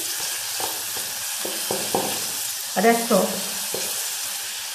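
Duck speck fries in hot oil flavored with rosemary, giving a continuous close sizzle. Someone says a word, and there are a few stirring clinks and brief bursts over the frying.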